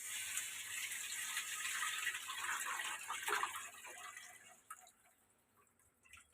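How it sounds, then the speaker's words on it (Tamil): Tamarind water pours steadily into fish curry masala in a pan, a continuous close splashing rush that tapers off toward the end. "இந்த மசாலா சேர்த்து கரைச்சி வச்சிருந்த புளி தண்ணியை இப்போ ஊற்றிடுவோம்."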